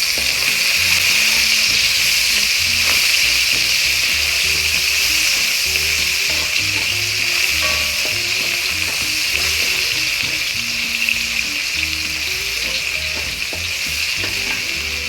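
About half a cup of chopped onion hits hot oil in a pan and sizzles loudly and continuously. Steady scraping stirs run throughout, with no talking over the frying.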